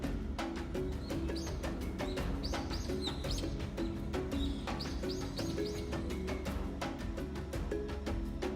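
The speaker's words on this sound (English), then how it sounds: "the air fills with the calls of nocturnal birds" Nocturnal birds calling across the Ugandan savanna, with many sharp, repeated chirps and tweets scattered over a steady, dense background of night sound at moderate distance.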